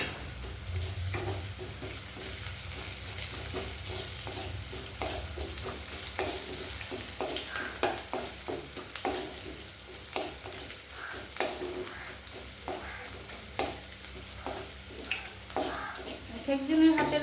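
Green chili, ginger and onion frying in a pan, with a steady crackling sizzle broken by the repeated scrape and knock of stirring, moderately close throughout.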